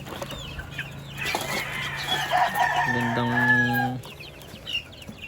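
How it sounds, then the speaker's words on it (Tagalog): Gamefowl roosters, including Boston Roundhead and Lemon breeds, cluck nearby, then one gives a loud, drawn-out crow, while a person speaks briefly in the background. "nasa labas itong mga tandang kasi nga ay iniwalay na namin sila"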